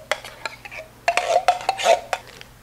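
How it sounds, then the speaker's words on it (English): A jar of beef broth shaken by hand, giving a series of quick sloshing rattles and clinks, close and moderately loud, in short uneven bursts with brief pauses between. "I'm gonna fill the jar up with 1 cup of beef broth, give it a shake"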